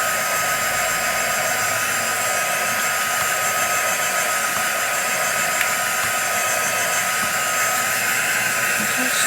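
A hair dryer blowing on wet paint on a junk journal page runs as a loud, steady, broadband whoosh that holds constant for the whole stretch, close to the microphone with no talking.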